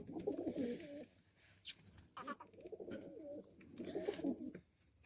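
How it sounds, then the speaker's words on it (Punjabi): Desi pigeon cooing up close in a village setting: three rounded, throaty coo phrases, each about a second long, separated by short pauses, with faint rustling in between. "ਇਹ ਹੈ ਜੀ ਕਬੂਤਰੀ, ਇਹ ਹੈ ਦੇਸੀ।"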